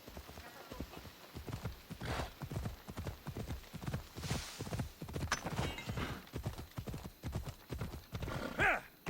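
Horse hooves gallop in a steady rapid clip-clop rhythm in Assassin's Creed Odyssey on PS5, with a rider urging the horse on and a brief whinny near the end.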